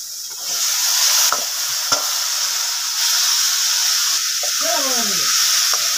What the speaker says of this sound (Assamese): এবাৰ ভালদৰে লৰাই মেলি অলপ ঢাকি দিম।